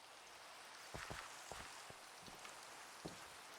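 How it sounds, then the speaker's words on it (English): Steady rain falls in Minecraft as an even, soft hiss, with faint scattered drips and patters rising briefly above the wash, quiet and continuous throughout. "Uh-oh, it's raining."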